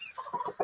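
A Black Copper Marans rooster gives a short, close clucking call, a few quick throaty notes packed into under a second.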